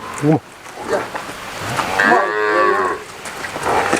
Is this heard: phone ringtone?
no